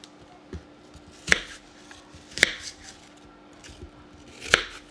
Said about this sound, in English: I'm just gonna go ahead and slice up my apple into thin slices, just like this